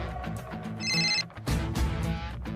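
A telephone rings with a bright electronic trill in short bursts, heard indoors over a low background hum.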